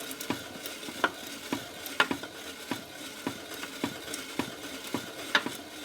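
Abrasive grit grinds inside a part of a 1947 Harley-Davidson EL 74ci knucklehead motor during a rebuild, giving a close, rhythmic, gritty scraping with regular sharp ticks and no talking.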